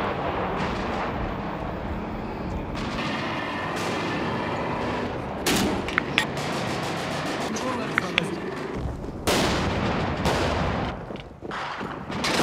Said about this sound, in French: Il y a quelques pilonnages d'artillerie, mais surtout des tirs d'armes automatiques. Des rafales sporadiques se font entendre.